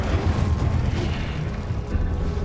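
Fiery spell blasts from Incendio casting in the game Hogwarts Legacy, a dense, loud roaring burst of flame with boomy low rumble sustained throughout, no voices.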